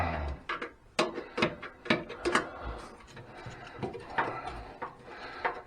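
Screws are tightened back into an Ideal Classic 250ff boiler fan and burner cover, giving a series of faint close ratcheting clicks and scrapes in irregular bursts with no talking.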